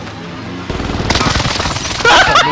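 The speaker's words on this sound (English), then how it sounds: "Airstrike. There's so many." Airstrike explosions and rapid gunfire in the video game Warzone Pacific, a sudden loud burst of blasts and automatic fire that keeps building, with a heavier crash near the end.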